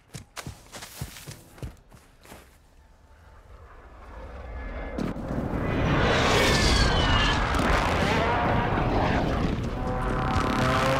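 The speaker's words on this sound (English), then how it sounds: "Hostile airstrike near your location." A hostile airstrike aircraft in a multiplayer free-for-all shooter comes in as a rising roar that swells into a loud, sustained rumble with blasts, following scattered footsteps and clicks at the start.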